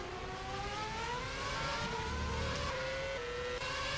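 Formula 1 race cars circling a track in the rFactor racing game at the Malaysian Grand Prix, a steady high engine whine rising in pitch as a car accelerates, moderately loud and continuous, with no talk.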